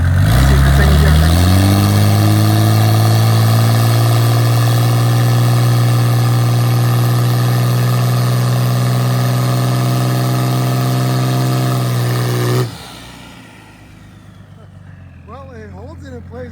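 A Mercedes OM606 turbo diesel drag car holds on the brakes to build boost, its engine droning loud and steady close by with a rising pitch before it drops off abruptly, leaving quiet background noise and faint squeaks.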